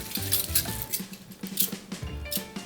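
Forks and utensils being rinsed while washing dishes by hand, bright metallic clinks and clatters against each other under running water, close and busy for a few seconds.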